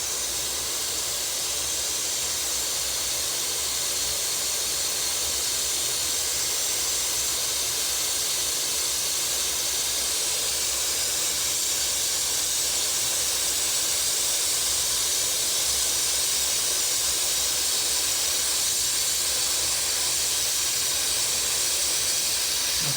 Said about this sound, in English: this is with the touch-up gun